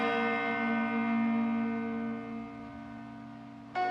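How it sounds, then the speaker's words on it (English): A church bell tolls a notice of death, one deep sustained strike ringing out with a long, slowly fading hum and rich overtones, followed by the start of another strike at the end; no voices. "that church bell would ring every day, that there's a certain bell for a notice for the death"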